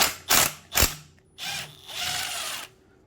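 Ratchet wrench backing out an 8 mm bolt near the clutch cable bracket on a 2016 ZX10 motorcycle: two sharp close bursts followed by two longer stretches of quick ratcheting clicks, with no talk.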